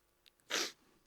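A single short human sneeze, sharp and fairly close, bursting out of near silence between pauses in speech.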